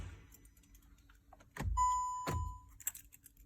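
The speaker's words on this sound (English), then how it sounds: "Now I have to close the car again" A Volkswagen Polo is shut and locked: two sharp, loud door thumps a fraction of a second apart, a beep at the lock, then light jangling of keys close by. No one speaks.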